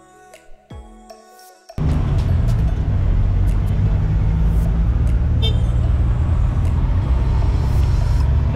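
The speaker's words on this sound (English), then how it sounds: "We rode a Multicab to Santa Lourdes." Riding inside a Multicab on the road to Santa Lourdes in Puerto Princesa: after a brief quieter start, a steady, loud engine rumble and road noise fill the cabin, with faint higher clatters over it.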